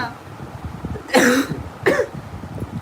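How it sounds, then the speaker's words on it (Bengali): A person who is unwell coughs twice, close and clear, with sharp separate bursts over quiet background. "আমার কাশি হচ্ছে"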